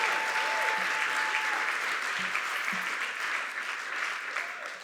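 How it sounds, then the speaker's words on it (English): Steady applause from a large theatre awards audience, a continuous wash of clapping that fades slightly toward the end. "another round of applause."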